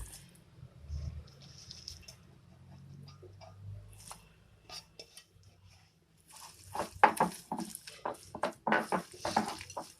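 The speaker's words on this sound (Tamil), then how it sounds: "இப்போ அந்த பூவை எடுத்து இதில் போட்டுக்கலாம்" Soaked banana flower dropped into a bowl of water and mixed by hand, a near run of wet splashes, drips and squelches that grows busier in the second half after a quieter stretch of faint clinks.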